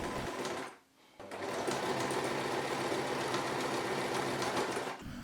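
A sewing machine runs in a steady, even whirr as it stitches a pressed fabric fold on a drawstring bag, pausing briefly near the start, then continuing alone and fairly quietly.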